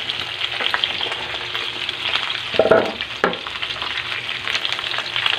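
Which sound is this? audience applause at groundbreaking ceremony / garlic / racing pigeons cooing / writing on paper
garlic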